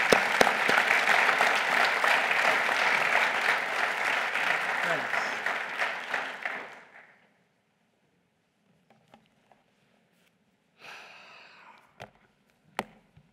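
A chapel audience applauds to welcome a speaker to the pulpit, with loud, sustained clapping for several seconds that gradually thins and fades out, followed by quiet with a few isolated small sounds.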